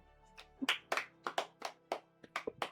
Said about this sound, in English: Clap hands for yourself